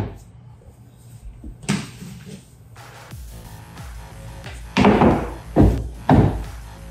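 A doorframe pull-up bar is fitted onto a door frame, giving a few hard thunks and knocks that grow louder toward the end, with quieter handling noise between them.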